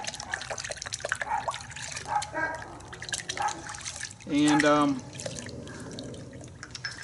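Car soap trickles and drips into a bucket of water, with a brief louder pour midway; someone speaks a single word softly.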